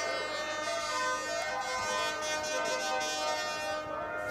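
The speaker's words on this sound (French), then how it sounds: "Sous les klaxons des supporters." Supporters' horns blare at a rugby match between US Dax and Bourg, several loud overlapping tones holding steady for the whole stretch with no pause.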